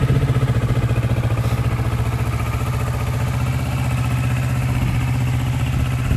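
A 2018 Kawasaki Ninja 650 KRT Edition with a 67 horsepower 650cc parallel twin idles steadily and close by, a low even throb with a slight rise near the start and no voices over it.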